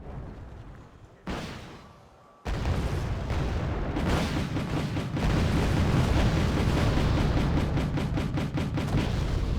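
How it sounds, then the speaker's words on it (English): Cluster bomb explosions in the Wargame: Airland Battle video game: a sudden heavy blast followed by a dense, continuous roll of rumbling detonations and crackling bursts, loud and sustained. "A couple of Rangroo's aardvarks gave a very nice cluster bomb run"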